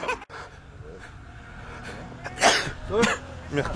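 A person sneezes, in one or two sharp bursts, close to the microphone, on an early-morning rally outing near Condrieu before the first special stage, with a low background hum.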